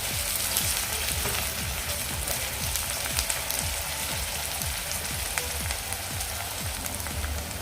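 Tomato and masala sizzling loudly as they are sautéed in a pan for bombil masala, a dense continuous crackling hiss with frequent popping spatters, close and steady with no talking.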